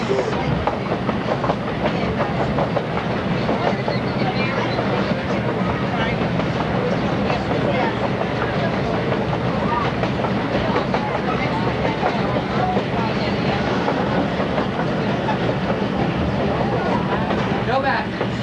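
A Grand Canyon Railroad train from Williams, Arizona rumbles and clatters steadily along the rails from inside a car, with a constant loud roll and people talking over it.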